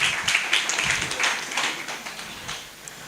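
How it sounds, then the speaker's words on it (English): An audience at a camp session applauds presenters, a fairly close, uneven patter of clapping that thins out toward the end. "And clap for them."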